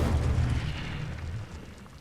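Incendio fire spell cast in the Hogwarts Legacy video game, a loud rumbling blast with a deep roar that holds steady and then fades slightly over about two seconds, with no speech.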